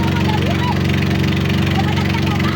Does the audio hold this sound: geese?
no